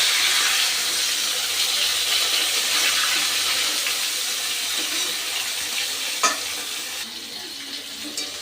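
Potato and eggplant pieces frying in oil in a pan, giving a steady loud sizzle with occasional stirring and a sharp scrape near the end.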